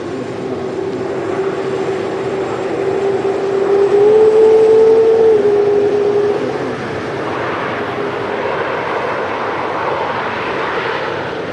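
A Boeing 787 at Manchester Airport gives off a loud, steady engine roar with a sustained tonal whine that rises and shifts slightly, swelling mid-way and then easing into a broad rumble.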